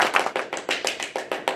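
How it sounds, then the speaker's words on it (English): Sparse applause for Mona at a comedy sketch show, a handful of hands clapping in a slow, uneven rhythm of about eight distinct claps, close and moderately loud with no talk over it. "Round of applause for Mona"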